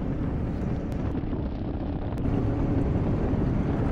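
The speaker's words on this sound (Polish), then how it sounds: "Ale kurde wieje!" Strong wind buffets an outdoor microphone near Powidz, Poland, a continuous loud low rumble that fills the whole stretch with no speech.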